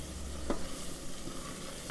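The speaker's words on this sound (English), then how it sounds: "Mix it around, get it pasty." Garlic and flour are stirred in a cooking pot, a soft scraping and gentle sizzle with one sharper clack of the spoon against the pot, close and quiet, no talking.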